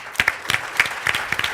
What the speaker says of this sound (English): I'll accept that applause for her